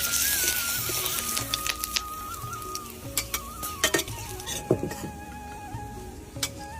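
Whole garam masala, bay leaf and dried red chilli fry in hot oil in a home kitchen, a steady soft sizzle broken by scattered sharp pops and a few clinks of a stirring utensil, no talking.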